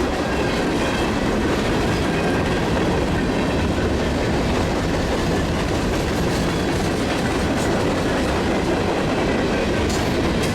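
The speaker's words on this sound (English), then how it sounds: "Follow this coal train out of town a little bit now." An eastbound coal train of CNW coal cars rolls past, a loud continuous rumble with rhythmic clickety-clack of wheels and a brief squeal near the end, steady throughout with no voices.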